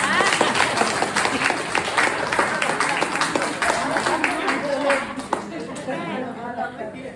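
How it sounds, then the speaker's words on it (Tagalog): Church congregation applauding in a sustained, dense burst of clapping mixed with chatter and some voices, holding steady for several seconds before easing slightly. "O, siya palakpak sa mga nakatanggap ng pagpapala."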